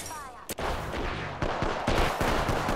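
Rapid gunfire in Apex Legends, sharp close shots and bursts that punch through a busy firefight, with a brief voice in the mix.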